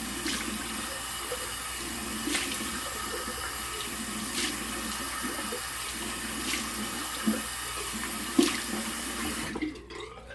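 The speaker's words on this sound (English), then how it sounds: "I'm gonna keep the cold water going" Cold water runs steadily from a tap into a sink during a wet shave, a continuous close splashing stream with a few small knocks, cutting off abruptly just before the end.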